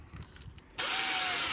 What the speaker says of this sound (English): first thing I do is I use my drill